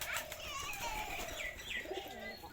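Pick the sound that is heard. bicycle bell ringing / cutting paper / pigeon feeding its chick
pigeon feeding its chick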